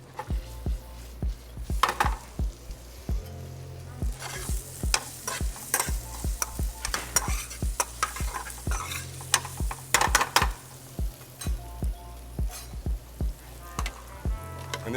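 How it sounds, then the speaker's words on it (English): Chili flakes and garlic fry in a pan while gnocchi cook, a soft constant sizzle under many sharp, irregular clacks of a utensil stirring against the pan, close and fairly loud. "Oh, listen to the sizzle."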